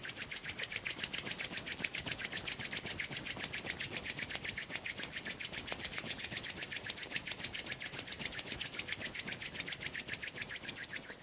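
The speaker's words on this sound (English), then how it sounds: "bring your hands together in front of you and maybe rub your hands quite vigorously" Hands rub together vigorously in a fast, steady rhythm of soft, close swishing strokes that repeat evenly throughout, fairly quiet and with no other sound.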